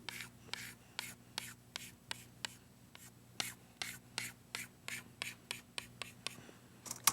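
Marker or chalk on a classroom board while a triangle is drawn and shaded for a geometry lesson, a quick rhythmic series of short scratchy strokes, close and fairly quiet, with no talk over them.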